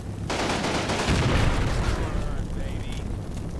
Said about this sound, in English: there's some fire down the road from a AA gun of some kind, a Pack 36 or something like that